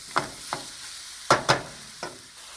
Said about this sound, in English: Higher the flame a little bit because you want it to start frying.